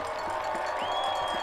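A home crowd cheers at a high school football game, with cowbells, the noise a steady, moderately loud roar under faint commentary.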